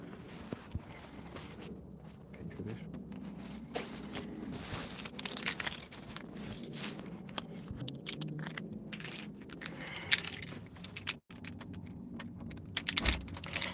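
A bunch of keys jangles and clinks at the front door of a village house while it is being unlocked, busy metallic rattling in irregular bursts throughout, close by, with a sharp clunk of the lock partway.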